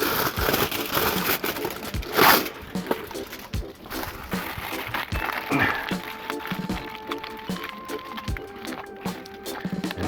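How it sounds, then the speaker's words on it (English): Tin foil crinkles and crumples as it is wrapped around a bamboo stem packed with moist peat moss, a close run of irregular crackles and rustles with sharp ticks, without any voices. "And we're going to wrap it up with some tin foil."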